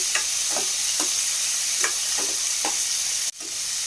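Tomatoes sauté in a pan for chutney with a steady close sizzle, while a spoon stirs in regular soft scrapes about every half second, ending in one sharp knock.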